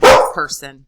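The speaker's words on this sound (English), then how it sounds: "I apologize for the dog barking" A dog barks once, loud and close, overlapping the end of a person's spoken words, followed by a brief softer yip.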